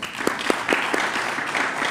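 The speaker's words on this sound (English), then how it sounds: "Let's give her a round of applause." Audience applause at a policy launch event in Kenya, with a few distinct, evenly spaced claps standing out over a steady bed of clapping from the room.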